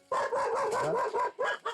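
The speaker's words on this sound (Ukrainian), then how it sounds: "Оце собачки у нас отам, отам, і у кожної двірки собачки." Several dogs bark from nearby yards in a small settlement, sharp repeated barks in quick irregular bursts, fairly loud and close, with no talking.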